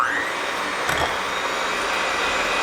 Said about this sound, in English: Then I'm just gonna use a hand mixer just to beat that until it's nice and smooth.